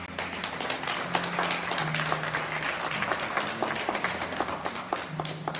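Audience applause fills a church gathering, a steady wash of many hands clapping throughout, with a low sustained tone droning underneath and scattered sharper claps standing out.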